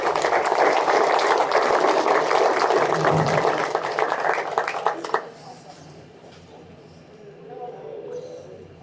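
An audience claps together in a round of applause for a honoree at a client recognition ceremony, loud and dense for about five seconds before breaking off into scattered claps, murmur and quiet room noise.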